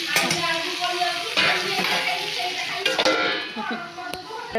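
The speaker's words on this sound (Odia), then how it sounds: "ଏଇଠି ମୋର କଲରା ଭଜା ଚାଲିଛି" Bitter gourd fries in a pan, a dense crackling sizzle with repeated utensil scrapes and clinks against the pan, close and loud, while a voice talks over it.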